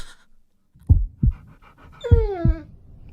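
A big brown dog in a horror animation pants heavily and close, with several sharp breaths, then a whiny, rising-and-falling whimpering pant.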